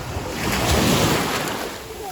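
Sea waves washing onto a sandy beach, a steady loud surf roar swelling and easing with wind noise buffeting the microphone.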